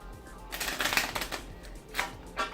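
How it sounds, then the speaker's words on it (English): Playing cards riffle-shuffled up close, a quick flurry of crisp flapping followed by a second shorter burst, no voices. "I will shuffle the cards again."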